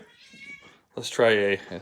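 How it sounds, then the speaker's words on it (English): A male house cat meows loudly and close in a long, drawn-out call lasting about half a second, following a quieter earlier meow, with someone talking in a room. "Hear him meowing there."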